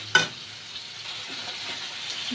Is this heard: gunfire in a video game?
no